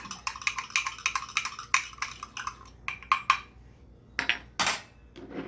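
A spoon scrapes and clinks against a dish while stirring chia pudding with oat milk, a quick run of metallic taps and scrapes, then a pause and a few sharper knocks, close and fairly quiet.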